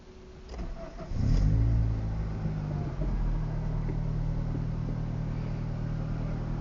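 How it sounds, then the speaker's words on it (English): A 2004 Acura RSX engine cranks, catches and settles into a steady idle while warming up, loud and close with no talking. "I'm gonna warm up the car again"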